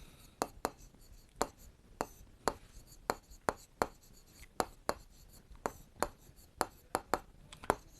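Chalk or marker strokes and taps during a Class 7 maths lesson on parallelogram area, a crisp irregular series of about twenty close, sharp marks over a quiet room, with no talking.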